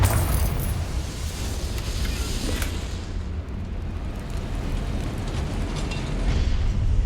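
Confringo fire spell exploding in the Hogwarts Legacy video game, a dense rumbling blast with crackling bursts under continuous game combat noise and a lingering low roar.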